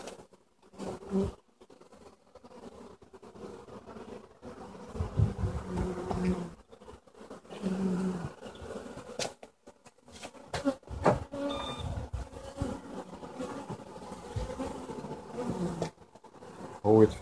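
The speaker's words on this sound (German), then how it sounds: "Heute ist das erste Mal in diesem Jahr richtig bombiger Bienenflug." Honeybees in flight around their hive on the first strong flying day of the year, a steady close buzzing swarm that swells and fades, rising loud near the end.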